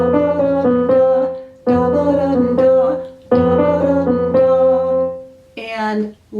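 Bebop phrase scat-sung by a solo voice in quick nonsense syllables, a lively melodic line in several bursts with short gaps, loud and close, the last burst a higher, brighter flourish.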